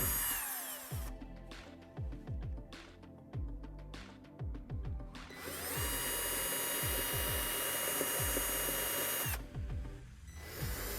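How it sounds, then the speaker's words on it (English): Power drill with a 2mm bit pre-drilling small holes into a spa cabinet, several short whirring bursts with spin-ups and spin-downs, then a longer sustained run, close and loud. "We're using a 2mm drill bit and one tip, just make a slight hole into the spa cabinet."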